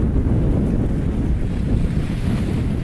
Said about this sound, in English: And plenty of waves out here.